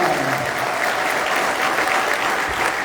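A church gathering gives a high school graduate loud, continuous applause, with many hands clapping evenly and close by the whole time.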